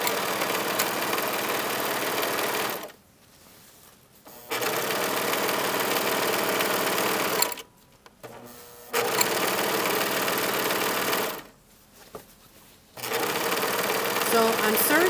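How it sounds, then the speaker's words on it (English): A serger overlock machine sews the side seams of a skirt in three loud, close bursts of rapid mechanical whirring, separated by short pauses in which the machine stops. "So I'm serging in a loop."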